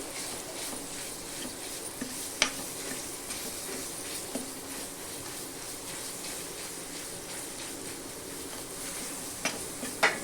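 Garlic and chili powder fry in a pan for a drumstick-leaf dish, stirred with a utensil, producing an even, moderate sizzle with scattered sharp ticks and scrapes from the spoon and no speech.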